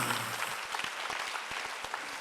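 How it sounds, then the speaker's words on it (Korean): Church congregation clapping along during a Korean Sunday worship sermon, a soft, steady patter of many hands at a distance, fairly faint, with no voices over it. "박수로 하세요."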